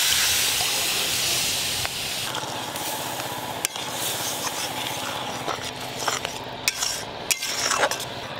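A hot pan of matar paneer hisses and sizzles loudly after a ground paste of cashew, poppy seed, melon seed and green chili goes in with water, with scattered utensil clinks over the steady steam.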